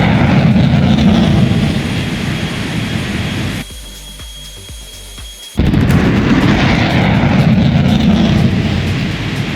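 An F-14 jet engine in a flight simulator game roars loud and steady, drops to a quieter, thinner whine for about two seconds mid-clip, then surges back to full roar.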